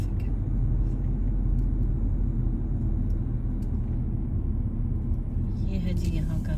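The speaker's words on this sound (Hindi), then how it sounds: "ये देखें फ्रेंड्स, ये है कनाडा की ट्रैफिक।" Steady road traffic during rush hour in a Canadian city, a continuous low rumble of passing cars and buses in both directions, fairly close, with a voice talking over it.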